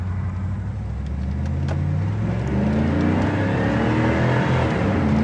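A 1993 Pontiac Trans Am GTA accelerates from inside the cabin, its engine droning and rising in pitch, dipping through a gear shift and then pulling again, loud and steady.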